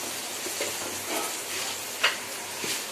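Onions and green chillies sizzle and fry in a pan at home, a steady soft hiss with a few light stirring clicks, close and alone.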